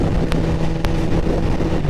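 A 2008 Yamaha FZ1 motorcycle with a 998 cc engine hums along at a steady pace while riding, its even engine drone mixed with constant wind rush, with no voices.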